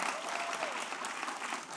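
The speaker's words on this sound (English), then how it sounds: "Let's keep the applause going for Rita Jackson Samuels, JT Johnson," An audience applauds panelists at a civil rights history event, a continuous, even patter of many hands clapping at moderate distance, quiet overall with a faint voice underneath.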